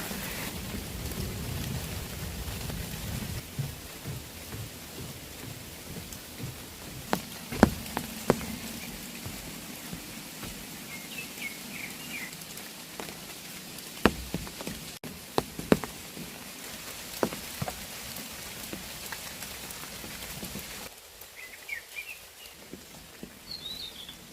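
Steady rain patters all around on a mountain hiking trail, with scattered louder drops striking nearby surfaces and a faint bird call now and then.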